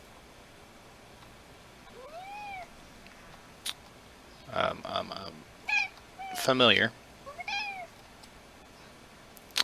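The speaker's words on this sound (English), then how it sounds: "looks like my cat has decided to come visit while I am playing today" A pet cat meows several times nearby, a few drawn-out calls separated by pauses, with a person talking briefly in between.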